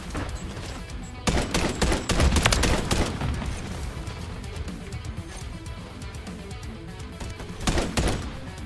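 Gunfire from a shooter video game: repeated close bursts and scattered shots crackle over a busy background, heaviest early on and again near the end, with no talking.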